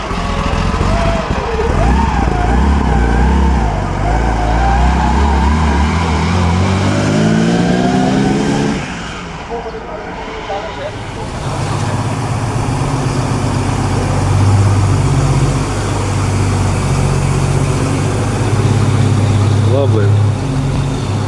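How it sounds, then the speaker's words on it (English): An early 1930s Alfa Romeo six-cylinder car at the Concorso d'Eleganza Villa d'Este revs up with rising pitch, drops off briefly, then holds a loud, steady drone close by. "This is that Alfa just came in, a 6-cylinder."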